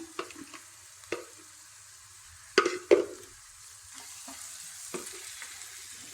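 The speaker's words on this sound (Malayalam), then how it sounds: "ഇനി ഇതെല്ലാം കൂടി നന്നായിട്ടൊന്ന് ഇളക്കി കൊടുക്കാം" Turmeric, garam masala, pepper and chili powder sizzle softly in a hot pan while a spoon scrapes and stirs, producing several sharp clinks and scrapes against a steady low frying hiss, close and without talk.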